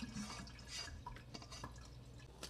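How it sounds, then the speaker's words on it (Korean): Washed small squid drain in a sieve, giving faint, scattered drips and trickles of water over a low background hum, with no talk. "두세 번 씻은 후 체에 받쳐 물기를 뺍니다."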